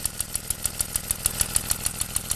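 A later Briggs & Stratton FC small engine, all original with a 4-bolt head and 4-bolt base, runs steadily nearby with a regular, even firing pulse repeating about six times a second.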